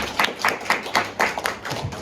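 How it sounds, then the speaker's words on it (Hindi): Audience of schoolchildren clapping at a school session, brisk rhythmic applause with about nine quick claps, moderately distant and fairly soft. "ताली लगाओ इसके लिए।"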